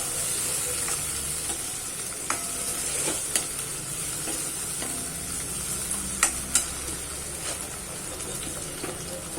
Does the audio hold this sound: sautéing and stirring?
yes